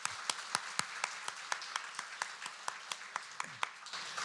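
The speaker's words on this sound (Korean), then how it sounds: "우리 한번 축복의 박수 하도록 하겠습니다" A church congregation at a Sunday worship service claps together in steady, evenly spaced beats to bless three children, a moderately loud rhythmic applause filling the room.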